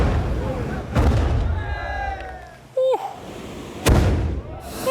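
Large firework mortar tubes firing in Japan, heavy booming launches with deep thumping recoil and crackling bursts, loud and close, with people talking and shouting between the blasts.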